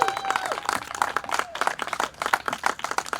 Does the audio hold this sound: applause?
yes